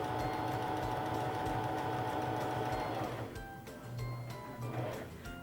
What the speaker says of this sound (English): turn the hand wheel towards you so the needle's in the highest position, and begin sewing your seam